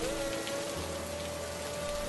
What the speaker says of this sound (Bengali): যেমন বজ্রপাত পড়ছে তেমন ঝড় বৃষ্টি